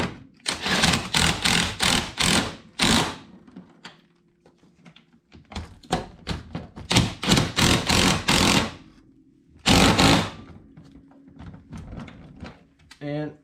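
Harness bolts are tightened on a Can-Am Maverick X3 with quick ratcheting bursts in several clustered runs separated by pauses, close and fairly loud, with brief talk between the bursts.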